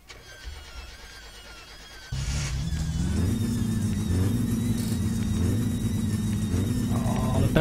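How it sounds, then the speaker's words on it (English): In the My Summer Car video game, a car engine runs with a squeaking belt: the engine catches about two seconds in and then holds a loud, steady drone, with a thin high squeal running along on top of it. "Belt squeaking again."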